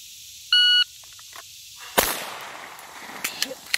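A firearm during a timed shooting drill: an electronic shot-timer beep, a pause, then one sharp, loud gunshot with a trailing echo, followed by a few fainter cracks near the end.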